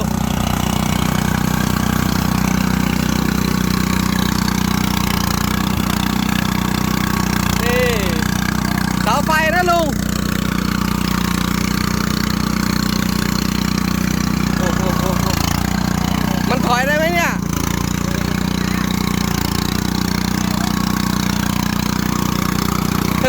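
An elderly man's homemade vehicle rolls along a paved road with its engine running, a steady loud drone that barely changes throughout, while someone talks over it.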